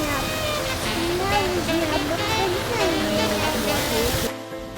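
Water pours and rushes steadily at a bathing pool near a campervan site in Sentul, a broad constant wash of sound with a voice talking over it throughout.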